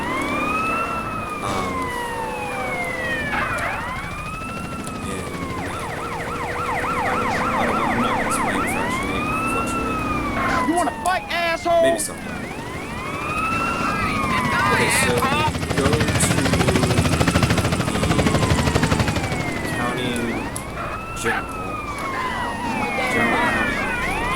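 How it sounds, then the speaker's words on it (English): An ambulance siren wails in repeated rising and falling sweeps over steady background noise, with people talking through much of it. "Ambulance."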